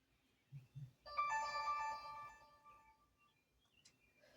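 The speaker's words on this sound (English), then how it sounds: "I don't know why my phone's doing it now." A mobile phone rings indoors during a lime green paint-mixing session, a bright melodic ringtone with stacked tonal notes lasting about a second, preceded by a couple of soft knocks and followed by quiet room noise.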